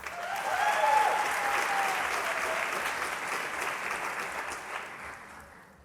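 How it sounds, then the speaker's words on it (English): Audience applauding honored teachers at a Teacher of the Year event, a full round of clapping that swells early and then slowly tapers off. "Let's give them another round of applause for all they do to make our students feel loved and supported each and every day"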